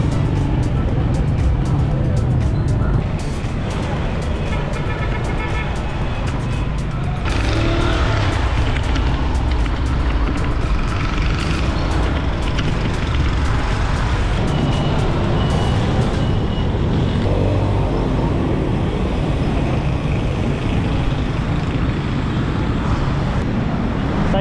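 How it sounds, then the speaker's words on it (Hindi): Heavy rush-hour road traffic on a Karachi street, a continuous loud rumble of cars, buses and trucks passing close by, engines droning with no break throughout. "बहुत ही गंदा ट्रैफिक है आज।"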